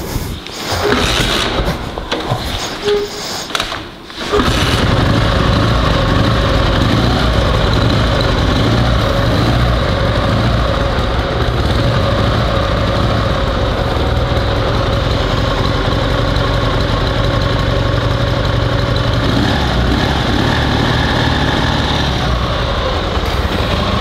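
Survival sidecar motorcycle with a modern ignition system cranks briefly, catches and settles into a steady, loud idle that runs evenly and close to the listener for about twenty seconds.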